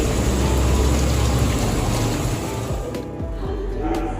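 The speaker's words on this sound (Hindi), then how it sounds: "तो मैं अभी से भिंडी धो के साफ़ करके इन्हें कट करके अभी से रख दूँगी" Tap water runs hard while okra (bhindi) is washed in a home kitchen, a loud, continuous rushing splash that eases slightly near the end with faint handling clatter.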